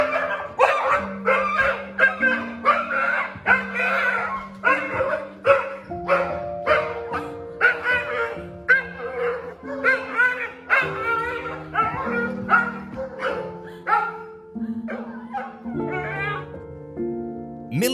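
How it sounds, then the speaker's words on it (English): Dog barking and yipping excitedly at an emotional reunion, many close, loud, rapid barks and whimpers coming in uneven bursts that continue throughout. "Even though you don't understand dog language, we bet it's not hard for you to get what exactly this dog is trying to convey."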